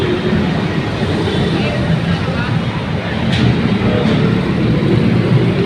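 A light rail train rumbles loudly and steadily nearby at an LRT station, a continuous mechanical roar with some voices mixed in.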